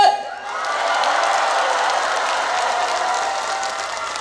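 A festival crowd at an outdoor concert breaks into applause and cheering on cue, sustained clapping mixed with whoops and shouts that holds steady and fairly close for the full four seconds.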